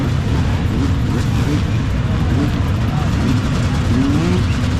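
A dense crowd of racing motorbikes, part of a 1,000-bike field at the Bassella Race 2022 start, produces a steady, heavy engine drone with overlapping revs and rising whines, loud and continuous throughout.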